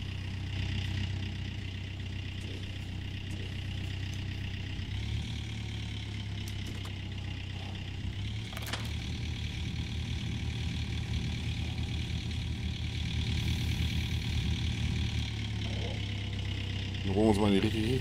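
A large excavator engine in the Gold Rush video game idles steadily throughout, a continuous low rumble with a slight rise near the end.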